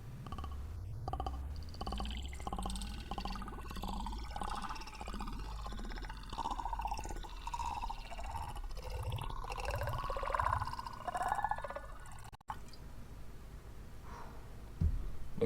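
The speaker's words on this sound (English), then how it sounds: "let's see if we can do a slow pour this time" Ancient Fire mead is poured slowly into a tulip glass, a long gurgling trickle with glugging bubbles that ends in a sharp clink near the end.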